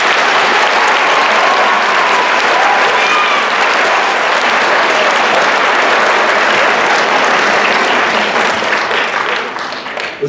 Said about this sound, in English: can we have a round of applause for the boys team?